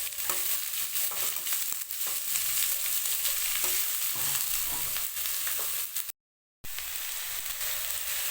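Sliced onions and green chillies sizzle in a hot pan for masala dosa filling, a continuous loud fry with frequent scraping stirs and ladle knocks, broken by a short gap of silence near the end.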